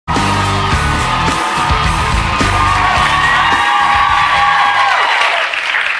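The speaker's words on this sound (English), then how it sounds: "It's amazing how loud people clap when they do this." A studio audience at a late-night talk show claps and cheers, loud and continuous, with yells and whoops mixed into dense applause that holds steady before tapering near the end.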